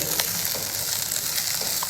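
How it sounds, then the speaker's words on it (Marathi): Beans, green peas and sesame seeds dry-roasting together in a pan, giving a steady, close crackling sizzle with faint scattered pops throughout. "वरणा दाणे आणि मटारचे दाणे थोडे एक मुठभरच घातले फार नाही पण त्याच्यामुळे वाटणाला चव चांगली येते हे मटार हे सगळं आपण असं एकत्र भाजायचं आहे"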